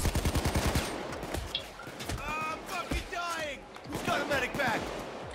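Rapid automatic gunfire in the video game Payday 2 opens the clip as a loud burst, then scattered shots continue beneath excited voices talking.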